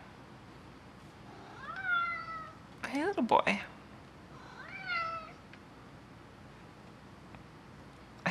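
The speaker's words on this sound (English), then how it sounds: "Little cat's brushing up against my leg." A house cat meows twice, fairly close, each call a short rising-falling cry, with someone speaking briefly between the two meows.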